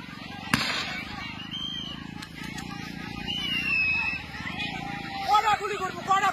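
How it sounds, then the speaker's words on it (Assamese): A sharp crack of gunfire rings out during a tense village eviction, one clear shot amid shouting crowds and agitated voices, with further scattered bangs and commotion. "গুলি চালনা কৰি আছে"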